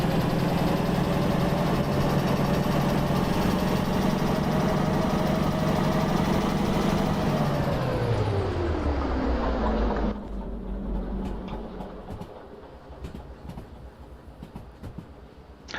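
A train locomotive engine in the railway sim Derail Valley drones loudly and steadily, then its pitch sinks and the roar drops away to a quieter rumble with faint clicks.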